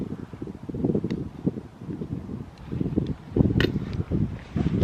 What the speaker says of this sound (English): Well, it's a bit windy though, so.